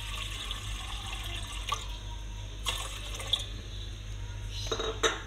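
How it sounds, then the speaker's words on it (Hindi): Water splashing and trickling into a pot on a stove for Kashmiri chai, a quiet close pour with a few brighter splashes and drips over a low steady hum. "हम पानी के ऐड करेंगे"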